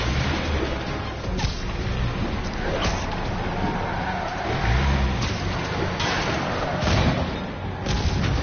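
Trucks carrying gunmen in a Spider-Man game roar and skid across a road, joined by repeated loud impacts and bursts that could be gunfire, all in a dense, continuous action din.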